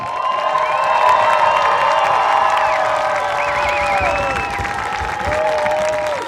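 A large crowd at a marching band glow show applauds and cheers loudly and steadily, with whistles and whoops rising over the clapping.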